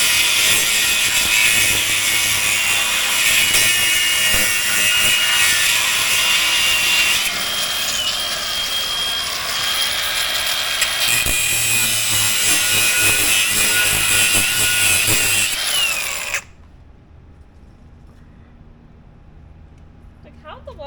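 A power saw cutting through welded metal on a 1997 Ford F350 truck: a loud, continuous high whine grinds on for about sixteen seconds with shifting pitch, then cuts off abruptly, leaving a quiet background.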